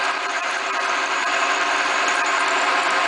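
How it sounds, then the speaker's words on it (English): A drill bores down through a motorcycle part in a workshop, giving a steady, loud, unbroken whine and grinding hum for a few seconds without any talking. "we're going to drill right down through there"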